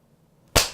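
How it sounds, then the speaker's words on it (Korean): After near silence, clapping bursts in suddenly and loudly, then keeps going to the end. "박수"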